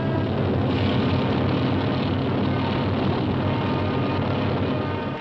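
Naval jet helicopters lift off during a 1961 military emergency operation, each carrying fifteen men; a loud, steady roar of turbine engines and rotors fills the whole stretch without a break.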